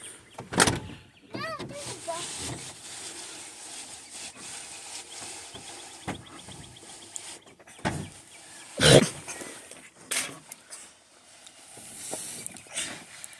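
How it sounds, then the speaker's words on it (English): Car power window rolling down inside a parked vehicle, a whirring motor under children's and adults' talk, with thumps and clicks around it. "Hey, roll the window down."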